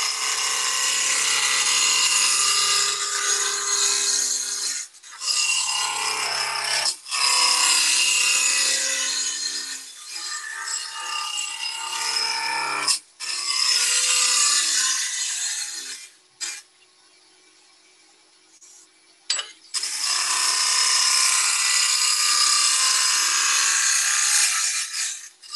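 A wooden gnome is shaped on a lathe with turning tools, giving a loud continuous cutting rasp that runs in long passes. Short pauses break the passes, and the lathe hums quietly during one longer gap.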